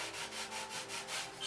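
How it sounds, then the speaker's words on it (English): Steady rhythmic sanding strokes of a sanding block on the edges of a model railroad yard office, a dry scratchy rubbing repeating back and forth about every quarter second, close and fairly quiet. "I'm going to take this sanding block here"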